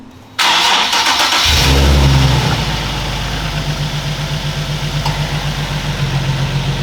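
A Nissan 370Z engine cranks for about a second, catches with a loud flare of revs, then settles into a steady, evenly pulsing idle, heard close.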